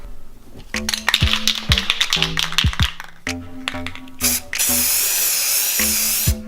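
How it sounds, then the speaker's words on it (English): Red spray paint hisses from an aerosol can onto a black toy gun in one steady burst near the end, after a run of clicks and taps from the can. "We'll spray some red."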